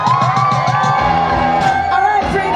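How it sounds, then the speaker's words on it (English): A cruise ship audience aboard Carnival Freedom cheers for the cruise director: a crowd of whoops, shouts and yells, with a rhythmic pulse of music beneath at first, loud and close. "make some noise for your cruise director"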